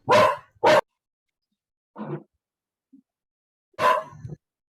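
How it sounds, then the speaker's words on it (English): A dog barks at close range in a quiet room: two sharp barks in quick succession, then a softer yip, then one more bark a moment later. "her dog is being naughty"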